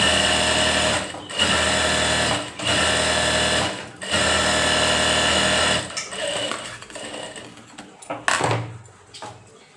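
A sewing machine stitches a Punjabi dress in loud, rapid bursts of a few seconds each, separated by short pauses, then gives way to lighter handling noises and brief clicks.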